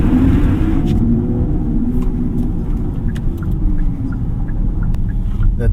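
Hyundai IONIQ 6 GLS electric car with its synthetic active driving sound on, a steady low hum and rumble that swells slightly as the car accelerates, heard continuously from inside the cabin.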